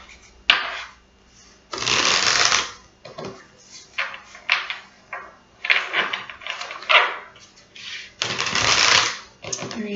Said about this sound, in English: let's just do like 2 more shuffles